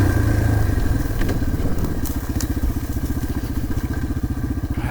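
A dirt bike engine runs steadily through a ride in the Vermont wilderness, with a loud, close, pulsing throttle rumble, occasional clattering knocks from rough terrain, and wind noise, and no voices.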